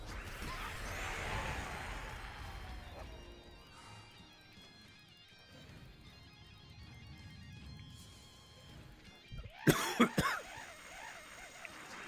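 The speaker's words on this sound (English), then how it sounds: "I hate this cough so much." A person with a lingering cough coughs hard several times near the end, loud harsh bursts close to the microphone, after a long stretch of quiet background sound.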